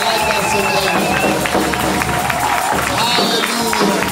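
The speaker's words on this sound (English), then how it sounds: "Please clap for the Russians." Church congregation at a ministry service in Duisburg, Germany clapping and cheering together, a steady dense wash of applause with crowd noise filling the room throughout.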